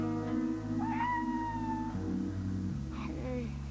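A cat meows over steady background music, its rising, wavering cries standing out clearly for a couple of seconds, with a fainter second call near the end.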